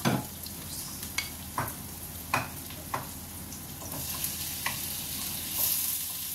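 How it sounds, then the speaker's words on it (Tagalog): Baby octopus sautéing with onion and garlic in a pan gives a steady sizzle, broken by sharp scraping stirs and utensil taps at irregular intervals. "Habang ginigisa ang octopus at home"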